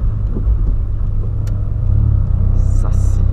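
Straight-through exhaust on a VW Polo droning with a deep, loud steady rumble, swelling slightly partway through, with a person talking over it.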